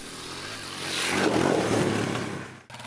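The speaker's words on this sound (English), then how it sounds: "the BigWheel is probably still the best way to ride a motorcycle in the snow" A Yamaha BW350 Big Wheel motorcycle engine revs up and roars past nearby while riding in snow, swelling loud then fading, with no voices.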